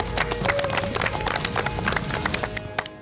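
A studio audience on an Indian farming show applauds with a steady wash of clapping. The clapping is loud and continuous throughout and then tails off slightly near the end.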